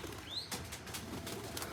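Racing pigeon released into foggy air: a quick burst of wing flaps close by, with a brief whistling chirp and faint outdoor ambience, no talk.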